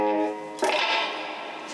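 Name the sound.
electric guitar through Amplitube tube compressor and reverb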